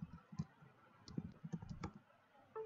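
Keys tapping on a computer keyboard as a command is entered, a faint, irregular run of close clicks with short pauses and no speech.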